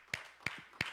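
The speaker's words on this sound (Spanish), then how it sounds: "dele un aplauso al Señor y dele gracias" Three crisp claps evenly spaced about a third of a second apart, fairly faint and close, honoring the Lord during a Spanish-language church service. No voices are heard.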